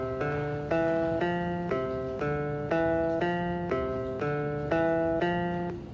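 A tablet weaving-pattern app for blind weavers sonifies a threading sequence of 1 2 3 4 repeated, heard as a clean run of electronic tones in repeating four-note groups, evenly spaced and at a moderate level.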